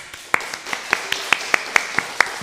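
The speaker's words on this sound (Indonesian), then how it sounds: "Boleh kita tepuk tangan dong." Sparse, evenly spaced claps from an audience at a church service, applauding a Sunday school children's choir; a handful of sharp hand claps in a steady rhythm, moderately near, with no talk.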